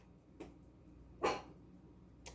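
A Chihuahua gives three sharp, high yaps spaced about a second apart, faint and somewhat distant in an otherwise quiet room.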